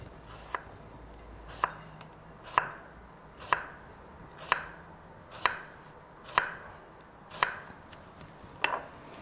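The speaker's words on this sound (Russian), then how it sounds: "Мы нарезаем." A knife chops through cucumber on a cutting board in nine evenly spaced, crisp strikes about one per second, close and clear with no talking.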